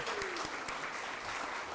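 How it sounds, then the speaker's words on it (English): Brief burst of audience applause at an evening author event at a library, dense and even clapping from a crowd with a faint whistle near the start. "Let's give a round of applause."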